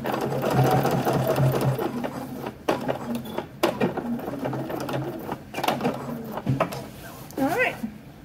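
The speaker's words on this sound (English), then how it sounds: "Counting my stitches, it's three stitches." A sewing machine stitches swim trunks in a rapid, whirring run with brief pauses and restarts, close and steady, while a person talks over it.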